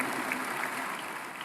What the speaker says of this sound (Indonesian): Ayo beri tepuk tangan buat Tuhan kita Bapak Ibu yang dikasihi Tuhan